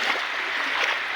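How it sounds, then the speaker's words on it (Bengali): Floodwater breaking over an embankment and running across a road, a continuous close rushing and splashing wash at steady loudness. "আমাদের দেখো বাঁধে এরম প্যানা জমে গিয়ে পানি ভাঙছে রাস্তা দিয়ে"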